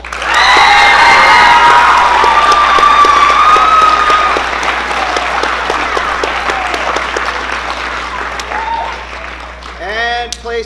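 Applause and cheering from the audience at an eighth-grade speech night awards ceremony, loud and sustained with shrill whistles and shouts, easing slightly after about four seconds before a voice breaks in at the end.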